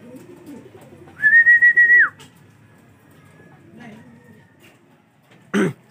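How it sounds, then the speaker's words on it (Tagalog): Pigeons at a rooftop loft, with a loud whistling call and low cooing-like murmurs, some soft background noise and a sharp burst near the end. "So ayan mga kalapatids."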